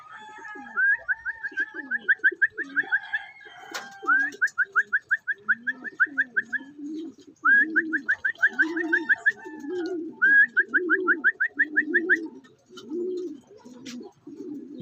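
Racing pigeons at a loft give repeated close, rhythmic coos in low throbbing bursts, with brighter whistling calls from other birds running in short series above them.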